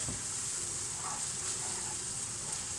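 Chicken jalfrezi frying in hot oil gives a quiet, steady sizzle and hiss that holds evenly throughout, with no voices.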